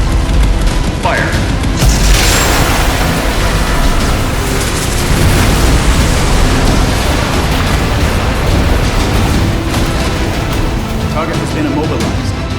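Gauss cannon in the VR game Unearthing Mars 2 fires with a loud, sustained booming blast and rumbling roar that fills the whole stretch, a sharp burst near the start giving way to continuous heavy noise.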